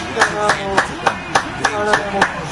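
Crowd clapping in rhythmic bursts within the NBA 2K23 basketball video game, a steady beat of claps about every quarter second carrying over faint arena noise.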